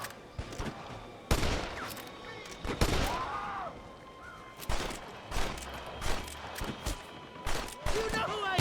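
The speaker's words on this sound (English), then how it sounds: "They're shooting down on us!" Enemies on a clifftop fire down in Red Dead Redemption, a western video game: sharp gunshots crack out irregularly, some in quick bursts, with echoing tails over a low battle ambience, and voices shout between shots.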